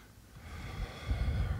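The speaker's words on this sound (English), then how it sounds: "Deep breath." A slow, deep breath drawn in and let out close by, a soft low rush that swells toward the end, quiet and with no talk over it.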